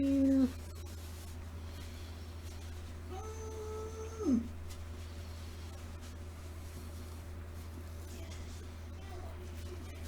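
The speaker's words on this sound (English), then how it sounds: "That is what your cat sounds like." A pet cat named Mimi meows twice, a short cry at the start and a longer rising-falling meow midway, faint behind a steady low hum and quiet room noise.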